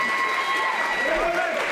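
Crowd applause at an amateur boxing event, a short burst of steady clapping from spectators in a hall, with a commentator's voice heard over it.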